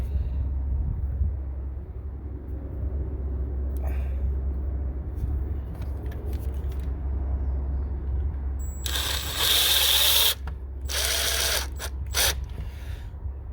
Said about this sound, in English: all you're going to do is eye this out on top of the cap and screw it in